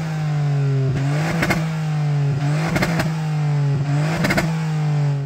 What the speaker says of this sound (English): Go on, rev up the ST.